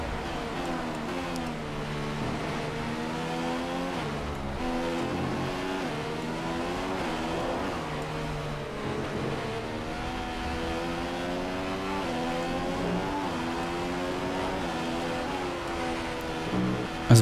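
Racing car engine in F1 2015 at the Singapore circuit, a sustained high-pitched whine that climbs and drops through gear changes, loud and continuous for the whole stretch with no talking.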